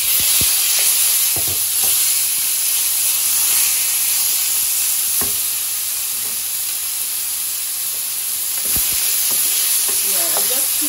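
Spring rolls frying in hot vegetable oil in a pot give off a loud, constant hissing sizzle, with occasional soft knocks from turning them.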